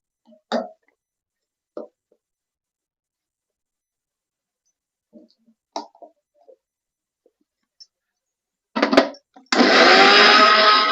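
A kitchen mixer grinder whirs loudly as it grinds coconut for a tripe curry, starting with a short burst and then running steadily near the end, after several scattered quiet clatters.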